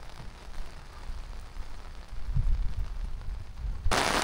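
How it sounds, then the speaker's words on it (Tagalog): Heavy rain pours in Calauag, Quezon Province, Philippines, as a steady, dense broadband hiss with low rumbling patter, swelling to a louder, brighter rush in the final half-second; no one speaks. "So, babalik na ako. Kasi lakas ng ulan."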